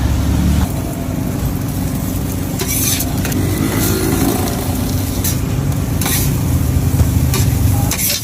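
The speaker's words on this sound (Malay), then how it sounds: "Ni kita kasi goreng dia sikit. Nak goreng lagi." Steady frying sizzle of roti canai in a pan, with occasional sharper crackles and scraping bursts, continuous and close by.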